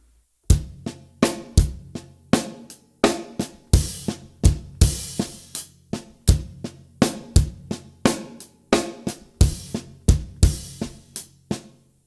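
A drum kit slowly plays one bar of a beat, a steady groove of kick, snare and cymbal hits, evenly spaced and loud, with no voices.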